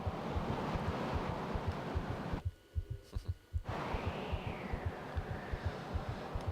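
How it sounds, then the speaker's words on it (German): A steady wind gusts across a mountain peak in the video game Black and White 2, with a soft low pulsing underneath and a brief quieter gap partway through. "da pfeift einem der Wind um die Ohren"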